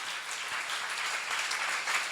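A church congregation at a seminar breaks into applause, a short, steady wash of many hands clapping together without any clear individual claps standing out.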